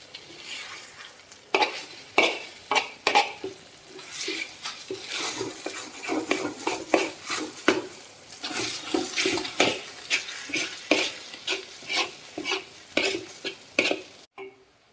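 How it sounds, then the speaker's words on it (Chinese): Thick rice batter stir-fried in a pan until its water cooks off and it clumps into a dough, with steady, rapid scraping and stirring strokes close up and a faint sizzle underneath, ending abruptly. "直到呢把这个水分呢把它炒干净，让这个米浆呢成团"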